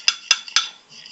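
A spoon stirs a homemade fake blood mixture in a container, four or five quick clinks of metal against the vessel spaced evenly over a second, close and fairly crisp.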